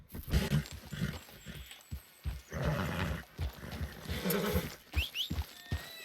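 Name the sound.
horse neighing in video game Red Dead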